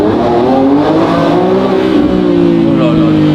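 Lamborghini engine accelerating hard from a launch, a loud continuous roar rising steadily in pitch with windows down, close and dominant with no pauses.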